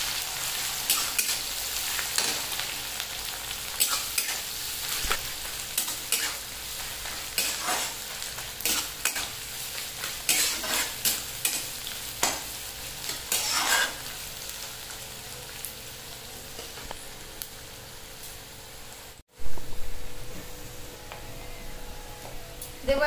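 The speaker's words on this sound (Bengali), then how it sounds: "ভালো করে লাল লাল করে পেঁয়াজ ভেজে নেব" Chopped onions fry in a pan with a continuous crackling sizzle, broken up by repeated scraping stirs and spatula taps and by a brief cut near the end.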